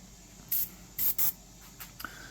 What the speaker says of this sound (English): when you're airbrushing, always make sure you take care of the tip dry on your airbrush